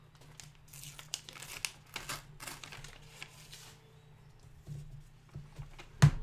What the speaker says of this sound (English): Let me tear this page off.